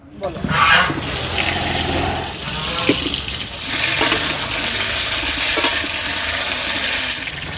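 Fresh mustard oil poured into an iron wok on a rural clay stove, giving a steady close hiss and splashing rush that runs for several seconds.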